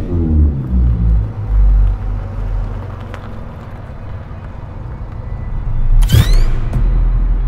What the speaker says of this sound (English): Driving through this 60-year-old 2-kilometre tunnel was one of the toughest things I've ever done